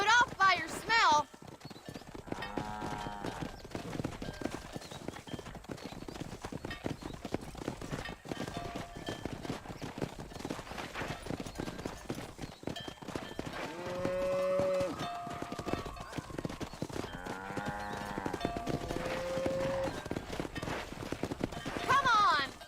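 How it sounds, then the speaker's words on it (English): A cattle drive in the Red Dead Redemption video game on Xbox 360, with steady horse hoof clip-clops running throughout, cows mooing now and then and a brief whinny, while game characters speak over it. "We need to get these cows out of the pen and onto the road"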